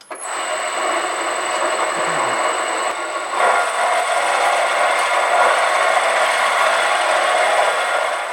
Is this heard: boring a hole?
yes